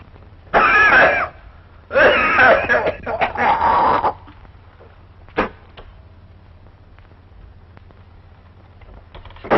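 An old woman coughs harshly in two loud bursts, the second a longer rough fit, followed by a faint sharp cough or throat sound amid low background hum.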